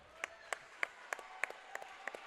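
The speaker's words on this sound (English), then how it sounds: "getting a fine hand there from the crowd." A crowd at a high school varsity wrestling match claps in a slow, even rhythm of about eight distinct claps over a quiet, echoing gym background.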